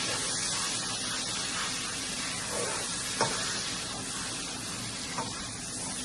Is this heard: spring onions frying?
yes